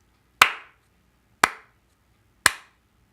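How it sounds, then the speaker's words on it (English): Three sharp hand claps spaced about a second apart, each a crisp isolated transient with a short decay, made to sync audio with video in a quiet room. "You're going to clap 3 times."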